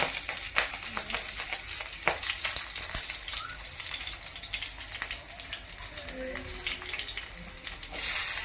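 Chili and garlic cloves fry in hot oil for rava upma, a continuous close sizzle scattered with sharp crackling pops that runs steadily throughout, swelling slightly at the end.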